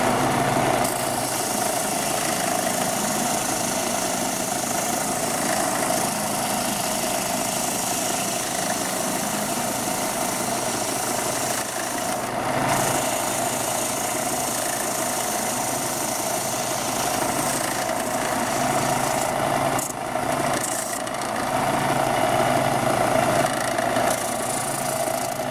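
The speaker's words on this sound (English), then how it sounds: "So let me sand it down a little bit and I'll show you what I mean." A power sander works on a PVC whistle, a continuous close buzzing drone with a steady motor hum and a few slight shifts in pitch and load, running throughout without talk.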